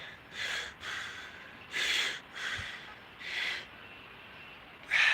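Heavy, labored breathing while climbing Baota Mountain in Shaanxi province, six close snorting huffs in a steady rhythm, with no talk over them.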